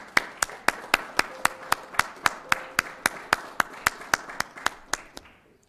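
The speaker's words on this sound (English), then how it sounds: "that deserves a round of applause" Steady rhythmic clapping from a small group at a city council meeting, crisp evenly spaced claps for several seconds before fading out.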